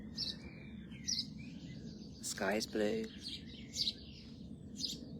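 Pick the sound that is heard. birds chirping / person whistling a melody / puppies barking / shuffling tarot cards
birds chirping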